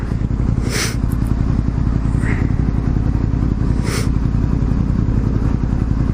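A motorcycle cruises on a highway, its engine a loud steady drone close to the mic, mixed with wind rush and a few brief clattering scrapes, with no talk.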